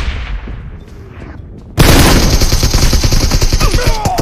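AKM rifle fire in the BGMI battle royale game: after a quiet stretch of faint distant shots, a sudden loud burst of rapid automatic gunfire takes over and continues to the end.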